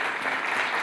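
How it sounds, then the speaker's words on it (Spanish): Audience applause for the governors of Colombia at a book launch, a dense steady burst of clapping from a crowd, loud and continuous with no voices over it. "Un aplauso también para él y para los gobernadores de Colombia."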